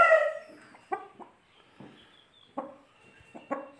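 An Aseel hen clucks close by in short, separate bursts, a few sharp calls spaced out with quiet gaps between them and no voices.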